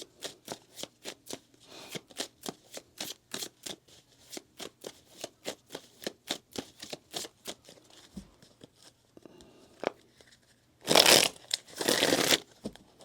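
Rapid tarot card shuffling, a long run of crisp riffling snaps in steady rhythm, ending with two louder bursts of card noise.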